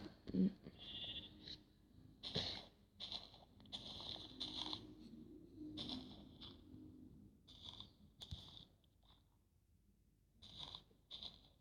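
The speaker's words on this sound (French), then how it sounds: "Des jolis moutons." Repeated short bleats of sheep in a Minecraft-style video game, somewhat synthetic in tone, sound in bursts over a low background, with occasional clicks between them.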